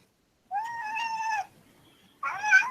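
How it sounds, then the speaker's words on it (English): A house cat gives two loud, close meows, the first long and drawn out and the second shorter and harsher, separated by a brief silence. "Shut up, cat."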